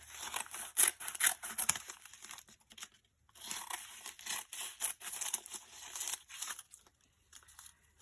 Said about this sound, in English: looks like I need to cut these edges off